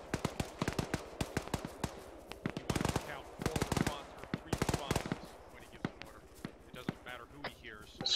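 Rapid bursts of automatic gunfire crack close and loud in a military shooter played as a rifle squad with a grenadier, sharp volleys repeating in clusters while players talk over the shooting.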